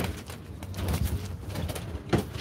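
Low, soft cooing of pigeons close by, a murmuring rumble with a few clearer coos and some rustling.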